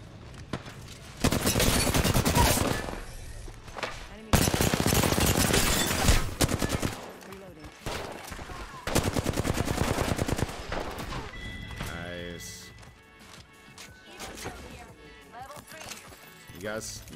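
Apex Legends gunfight: several loud rapid bursts of automatic fire in clusters with short gaps between, then quieter scattered shots as players talk over the action.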